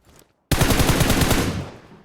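A sudden, loud burst of rapid automatic gunfire in the video game One Man Squad, a dense rattling volley of about a second that fades out quickly.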